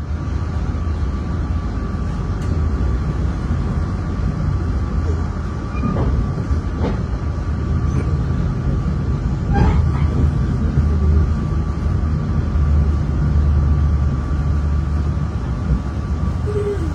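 A passenger train rumbles along the rails with a continuous low roar, occasional clacks and faint squeals, loud and close as if from inside a carriage, on the Semarang–Jakarta line.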